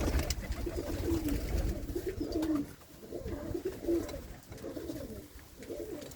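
Pigeons of several fancy breeds perched outside their loft coo repeatedly at close range, a low throaty warbling in steady rounds with no talking over it.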